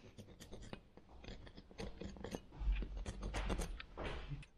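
Sand is scraped in faint, close, irregular gritty scratches and rubs that thicken and grow slightly louder toward the end, with no talk.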